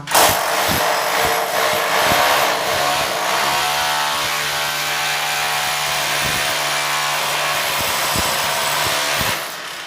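A loud power drill grinds and whines steadily into a concrete bathroom floor, close by, with rattling pulses and no talking.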